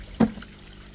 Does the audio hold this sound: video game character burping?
no